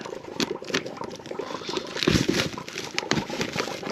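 Frozen zipper on a tent at a solo ice camp on a frozen lake, tugged and struggled with in a series of close, scratchy crinkling and patter-like rasps, with a stronger pull about halfway through.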